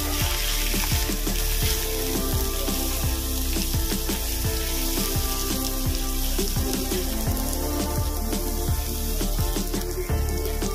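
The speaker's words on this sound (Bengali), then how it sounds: "মশলাটা ভালো করে কষিয়ে নেব" Spice paste of chili powder, turmeric and green chili frying in a pan for pomfret curry, a loud dense sizzle with crackling spatters and repeated scraping stirs throughout, close up and without talk.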